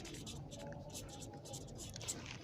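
Pen or marker scratches out an equation on a writing surface in quick, faint strokes and taps, close up and quiet, with no talking.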